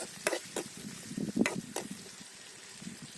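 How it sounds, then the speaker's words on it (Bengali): Chopped onion and garlic frying in hot oil in a kadai over a wood fire, stirred with a few quick scraping strokes over a low sizzle, close and fairly quiet, no talking. "এখন আমরা কড়াইতে তেলের গরম তেলের মধ্যে এই যে পেঁয়াজ কুচি আর এই যে রসুন কুচি দিয়ে দিলাম একটু নেড়ে ছেড়ে দিলাম"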